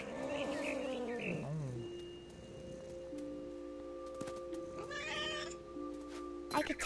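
A cat meows in the video game What Remains of Edith Finch, a drawn-out wavering cry near the start followed by quieter game sounds and tones, with no talking.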